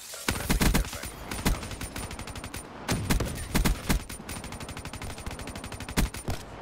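A turret weapon in a video game fires nonstop in rapid, loud bursts of gunfire, with dense repeated shots and heavier booms scattered throughout.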